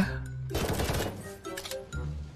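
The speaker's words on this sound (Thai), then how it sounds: "ดูดิดูดิเขายิงกันอยู่" Rapid bursts of automatic gunfire in Roblox War Tycoon, a chaotic battle with helicopters overhead, the shots crackling loud and dense for about a second and a half before a low engine drone returns.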